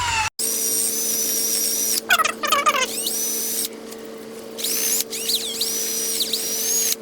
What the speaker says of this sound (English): take a wire brush and just kind of clean up where that hardware is going to go